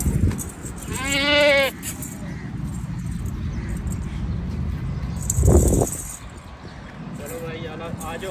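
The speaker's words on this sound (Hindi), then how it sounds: "ये तो बकरा" A goat gives a loud, wavering bleat at a crowded Eid livestock market, with a fainter bleat near the end, over the steady murmur of people talking nearby.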